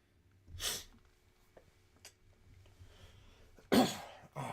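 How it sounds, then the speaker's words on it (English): A single sharp sneeze-like burst early on, then quiet breathing and small noises, ending with a louder second explosive burst, close and unaccompanied by talk. "I feel like I'm gonna sneeze."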